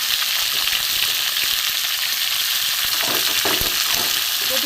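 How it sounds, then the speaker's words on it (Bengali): Mixed vegetables, including kohlrabi and cabbage, for vegetarian khichuri fry in a pan with a loud, steady, close-up sizzle, while stirring scrapes and shuffles sound through it near the end. "সবজিটা ভালো করে নাড়বো।"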